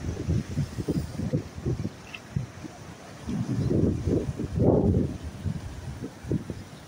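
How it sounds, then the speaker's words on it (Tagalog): Strong seaside wind gusts buffet the microphone in low rumbling bursts, loudest around the middle, with faint water and surf beneath along a rocky shore at tide. "malakas ang hangin"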